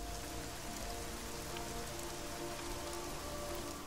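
Steady rain in the Deus Ex Mankind Divided video game, a dense constant hiss of drops on surfaces at low volume, with no voices or other events.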